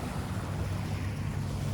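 Calm Atlantic Ocean waves at the Charleston waterfront, a soft, steady wash of surf with light wind noise, faint and continuous for under two seconds.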